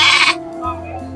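A young lamb bleats loudly and close at a busy Tuesday sheep market in Harihara, one strained wavering cry over a steady background hum.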